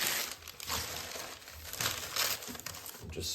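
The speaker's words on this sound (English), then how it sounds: "Crumple it up nicely." Two pages of newspaper crumpled into a loose ball for kindling between logs in a wood stove, with dry crinkling and rustling bursts running steadily and close throughout.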